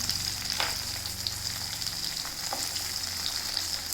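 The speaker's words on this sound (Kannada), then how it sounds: "ಈರುಳ್ಳಿ ಜೊತೆಯಲ್ಲೇ ನಾವು ಹೆಚ್ಚಿಕೊಂಡಂಥ ಮಾವಿನಕಾಯಿಯನ್ನು ಹಾಕೊಳ್ಳೋಣ" Chopped raw mango tossed in with onions and curry leaves sizzles steadily in hot oil in a pan, a loud, continuous frying hiss with faint stirring clicks and no talking.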